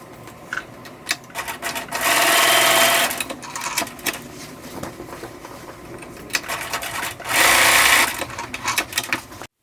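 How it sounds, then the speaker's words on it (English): Sewing machine basting two fabric straps near the edge of a Halloween fabric bucket, whirring in two loud, close bursts separated by quieter handling and small clicks. "Now I'm going to baste these 2 straps in place, just 1/8 inch from the edge."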